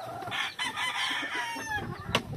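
A pure Yellow Legged Hatch gamefowl hen, about 15 to 16 months old, clucks and calls close by in a brief burst of throaty vocalising.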